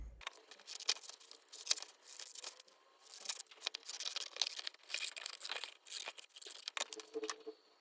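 A paper pattern for a frame clutch bag is cut out up close, with irregular crinkling, rustling and soft snipping of paper throughout and no talk.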